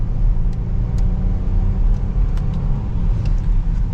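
A 2023 Audi A8L 55 Quattro S-Line accelerating in dynamic mode, its engine giving a loud, steady low rumble from inside the cabin with continuous road noise and no talking.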